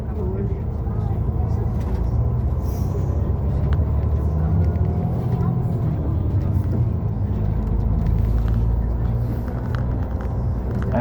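A city tour bus rolls through Zurich along a hilltop road, its engine a steady low rumble with continuous road noise throughout, while a guide talks over it.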